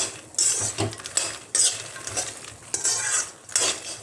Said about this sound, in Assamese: মখনাখিনি মই ভাজি লম।